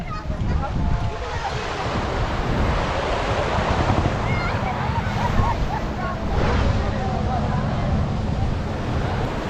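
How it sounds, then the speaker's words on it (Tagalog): Steady roar of surf washing onto Patar Beach in Bolinao, Pangasinan, broad and continuous, with a little wind over the water and no clear breaks between waves. "Lumalakas ni Alon."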